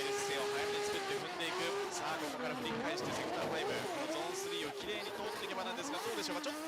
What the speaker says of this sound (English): Man, this car sounds good.